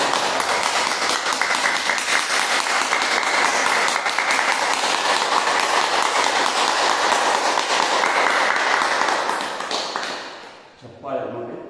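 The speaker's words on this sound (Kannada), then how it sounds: "ಇದಾದ ನಂತರ ಏನು ಮಾಡಬೇಕು, ಚಪ್ಪಾಳೆ ಮಾಡಬೇಕು" A yoga group claps hands in unison as an exercise, a dense, loud, continuous patter of rapid claps that runs for about ten seconds and then tapers off abruptly.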